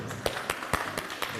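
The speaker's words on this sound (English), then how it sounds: "big round of applause for Simon again" Studio audience at a live stamping craft show at Port Sunlight claps for a guest, a sparse handful of distinct hand claps at a slow, uneven rhythm.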